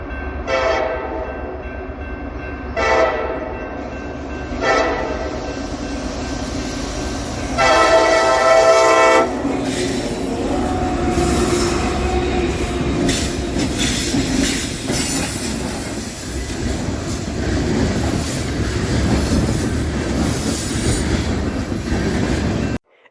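EMD diesel locomotives pass by, sounding several loud horn blasts before the rumbling engines and clattering wheels of the train roll steadily past, close and sustained, ending abruptly.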